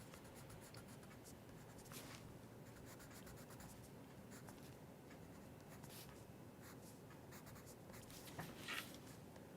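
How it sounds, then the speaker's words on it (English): A black colored pencil shading in the areas between squares of a drawn Rubik's Cube on paper, a faint continuous scratchy rubbing with small rhythmic strokes, close and quiet. "I can use the black pencil now to go in and darken in the area between"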